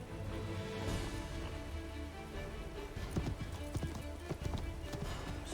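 A horse gallops in Assassin's Creed III, its hooves clip-clopping in a quick steady rhythm that grows louder partway through, with game noise and faint voices mixed in.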